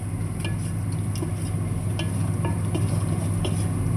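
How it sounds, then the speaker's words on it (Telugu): Salted onions fry in a pan as they brown for a tomato curry, giving a steady, close sizzle with occasional light stirring clicks and no talking. "ఇదిగోండి ఉల్లిపాయలు ఇప్పుడు బ్రౌన్ కలర్లోనూ వేగాలి, ఇంకా కొంచెం వేగాలన్నమాట."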